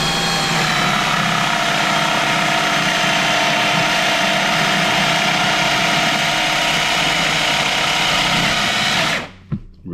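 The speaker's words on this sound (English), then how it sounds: "I drill down to the washer." A power drill fitted with a hole-cutting jig bores through plywood for a DIY kitchen build, a loud, steady whirring grind held for about nine seconds before it abruptly cuts off.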